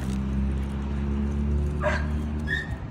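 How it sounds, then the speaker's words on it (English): A recording of a nervous, borderline reactive dog plays back a sustained whimper with a short yip, fairly loud and steady, with no voices over it. "So Modi was a super insecure dog"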